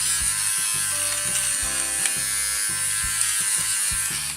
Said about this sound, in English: So we have a Conair nose hair trimmer.